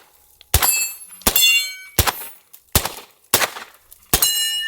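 A Beretta 92 pistol with a suppressor and red dot fires six spaced shots, each a sharp crack followed by a bright ringing clang of the round striking a steel target, loud and alone.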